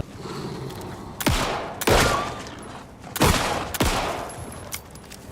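Heavy gunshots from the horror game Alan Wake 2 boom out one at a time, four loud, spaced blasts with ringing tails over a low ambient hum.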